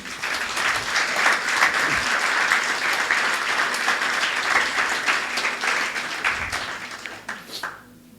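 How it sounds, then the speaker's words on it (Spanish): A church congregation applauds loudly and continuously, the clapping gradually thinning and fading out at the end. "Dale un fuerte aplauso a Dios."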